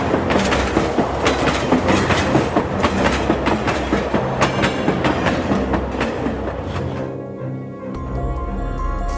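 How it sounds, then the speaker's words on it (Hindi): A train rolls along with steady clickety-clack of wheels over rail joints, loud and close, continuing without pause before the rumble thins and a low drone takes over near the end. "मेरे धन्यवाद करते ही ट्रेन चल दी।"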